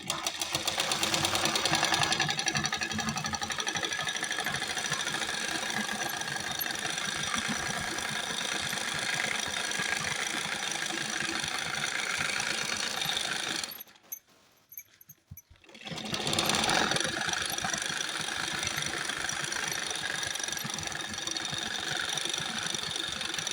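A sewing machine stitches a salwar seam, running in a steady, close mechanical whir that stops briefly about fourteen seconds in, then resumes for the rest of the clip. No speech is heard.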